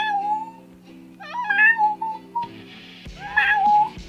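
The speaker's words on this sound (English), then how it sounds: "my cat keeps meowing" A pet cat meows several times in close succession, with clear rising and falling cries that stand out over steady background music from a game.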